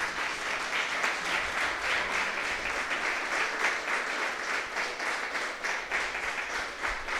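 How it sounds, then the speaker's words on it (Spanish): A church congregation applauding during a Spanish-language service, a sustained wash of many hands clapping at moderate volume, heard from a distance within the hall, steady for the whole stretch with no speech. "Unas palmas al Señor."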